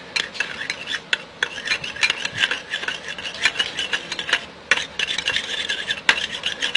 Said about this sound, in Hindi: इसे हम मिक्स कर लेंगे।